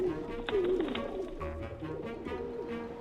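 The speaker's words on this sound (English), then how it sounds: "At the museum, pigeons are part of the scenery" Pigeons coo softly outside a Smithsonian museum building in Washington, DC, their low, throaty calls repeating amid quiet ambient noise.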